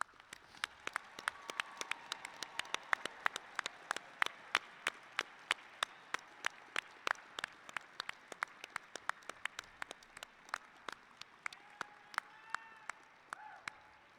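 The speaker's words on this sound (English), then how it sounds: "Let's give our graduates a round of applause" At a College of Engineering graduation ceremony, the audience applauds the graduates, though the hall sounds sparse: a slow, irregular run of distinct, sharp claps spread across the span, fairly faint and distant.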